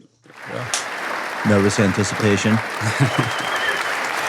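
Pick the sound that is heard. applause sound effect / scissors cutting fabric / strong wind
applause sound effect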